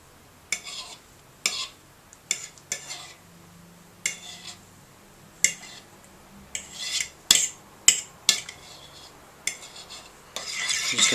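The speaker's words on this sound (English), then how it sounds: "I'm just going to beat the eggs for a little bit." Eggs are beaten for an egg wash with a fork or whisk against a bowl, giving a series of quick scraping, clinking strokes in irregular bursts that grow denser and louder toward the end, with no talking.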